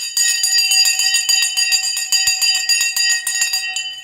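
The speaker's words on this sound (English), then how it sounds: "Time to ring the bell and see what's up and down." A stock market opening bell rings in rapid repeated metallic strikes, loud and continuous for about four seconds with no talking.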